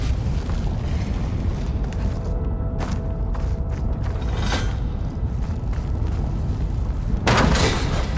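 Ballista shot and blast in Horizon Forbidden West, Burning Shores: a dense, loud rumbling game soundscape with mechanical creaks, a few sharp bursts, and a strong booming explosion near the end.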